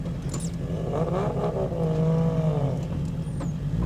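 Close Subaru WRX engine revving with a rising, wavering whine over a steady low rumble, no talking.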